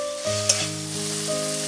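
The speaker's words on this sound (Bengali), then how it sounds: "এবার টমেটো কুচিগুলো দিয়ে দেব। ভালো করে কষিয়ে নেব মশলার সাথে।" Chopped tomatoes sizzling loudly as they stir-fry with spices in a pan, a steady close hiss with one sharp clink of a spoon.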